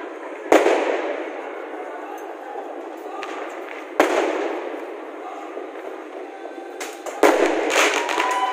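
Fireworks and firecrackers burst on New Year's night, three sharp cracks followed by crackling, sizzling tails over a steady background din of more distant bangs.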